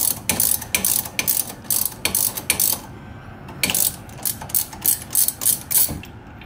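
Ratchet wrench loosening brake caliper bolts on a C5 Corvette, rapid clicking bursts in close repeated strokes with short pauses between them, no talking.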